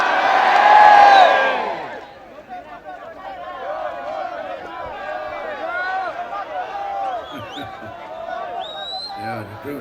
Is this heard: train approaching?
no